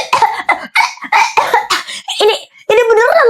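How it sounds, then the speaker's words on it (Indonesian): Repeated harsh coughing bursts from a person, loud and close, several coughs in quick succession with a brief pause before a final rougher fit. "ini beneran Mama batuknya"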